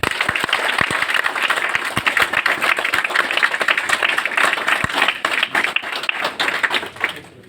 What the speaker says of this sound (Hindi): समर्थन तालियों के साथ